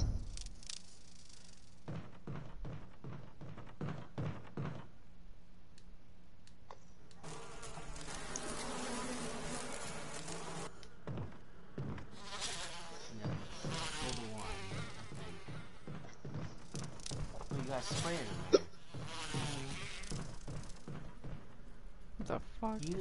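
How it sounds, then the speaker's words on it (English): Swarming killer bees in a Resident Evil game drone and buzz in fluttering bursts over more than twenty seconds, partly under excited talk and game noise. "Killer bees! Kill the bees! Not the bees!"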